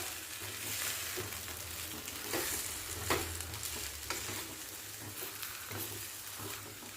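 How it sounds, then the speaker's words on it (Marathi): A spoon stirring a spice mixture in a hot pan over a low flame, with scraping strokes that come again and again over a steady, gentle sizzle. "चमच्याने असं फेट म्हणजे छान एकत्रित मसाले लागतात"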